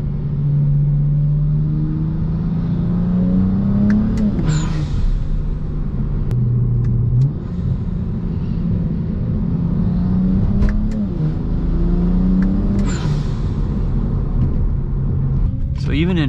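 A BMW 335i with an automatic gearbox accelerates from inside the cabin, its engine drone climbing steadily and dropping at smooth gear changes several times, under a constant road rumble with a person talking.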